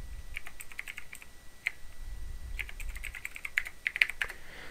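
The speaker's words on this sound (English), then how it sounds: "And then I'm going to go ahead and type in my new password that I want to use." A new password being typed on a computer keyboard: a close run of crisp key clicks, a few at first, then a quicker burst near the end, in a quiet room with no talking.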